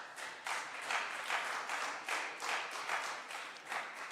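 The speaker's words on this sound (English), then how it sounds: "A round of applause for Eric." An audience at an international conference bursts into applause in rhythmic pulses of clapping, loud and sustained for several seconds with no voices over it.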